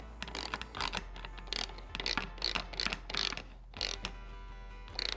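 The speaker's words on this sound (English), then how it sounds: "using a 8mm socket and ratchet, we're gonna tighten this down" Ratchet with an 8mm socket tightening a clamp on a Cobb Redline intake for a Subaru STI, giving repeated bursts of close, crisp clicking in short strokes with brief pauses between them.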